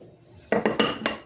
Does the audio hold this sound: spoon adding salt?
yes